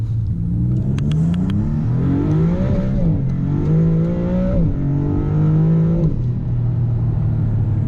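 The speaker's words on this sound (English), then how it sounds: "And we'll do a little highway acceleration here." A Maserati MC20 Cielo accelerates hard on a highway, its engine note climbing through several rising pulls with brief dips at each gear change, loud and close throughout.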